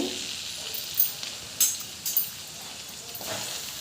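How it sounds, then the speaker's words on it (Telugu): Pieces of amla gooseberry frying in hot oil for a pickle, a soft continuous sizzle with a few sharper spitting bursts close by. "ఆయిల్ ఇటెక్కిన తర్వాత ఉసిరి ముక్కలు ఇందులో వేసుకోవాలండి"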